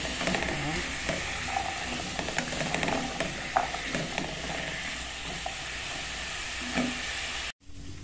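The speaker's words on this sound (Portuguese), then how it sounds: "Vamos envolver aqui na nossa abóbora" Seasoning, garlic and pepper being stirred and folded into pumpkin in a pan, a steady soft scraping and sizzling texture with no talk, ending in a brief dropout near the end.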